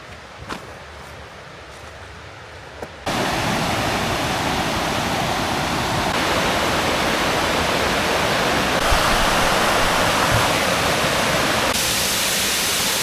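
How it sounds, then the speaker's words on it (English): A waterfall along a Savage Gulf hiking trail roars with a loud, constant broadband rush that starts abruptly after a few quieter seconds and then fills the scene without a break. "This is just one of many waterfalls that are not on the map."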